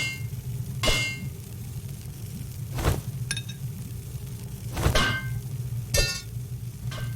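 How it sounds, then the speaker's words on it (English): Four separate hammer blows ring out against metal on an anvil while crafting in the video game Fallen Angel: Hell Survival. Each is a sharp metallic clang with a bright shimmering tail, spaced about a second or two apart over a steady low hum. "simply place them on the anvil and start hitting it with a hammer until it's finished."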